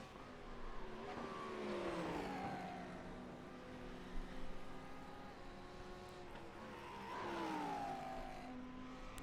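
A race car in the pits in the iRacing sim, engine whining up through rising revs twice as it pulls away, steady and fairly distant, with no talking.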